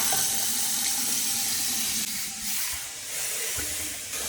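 Water runs steadily from a newly installed faucet on a pedestal bathroom sink, a close, continuous splashing hiss that shifts slightly in strength, with no voices.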